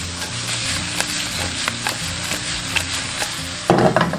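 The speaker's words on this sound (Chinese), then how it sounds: "开大火翻炒30秒" Cured pork and garlic sprouts stir-fried over high heat, with a steady loud sizzle and repeated spatula scrapes against the wok, ending in a sharper, louder burst of frying and clatter.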